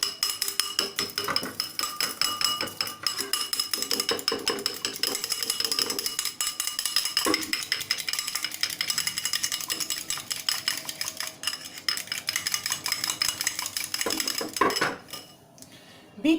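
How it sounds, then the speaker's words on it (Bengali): A fork whisks mug cake batter inside a mug, giving rapid, continuous clinking and scraping against the sides with a steady rhythm, close and clear, and the beating stops briefly near the end. "এবারে একটা ফোক নিয়ে এটাকে ভালোভাবে বিট করে নেবো"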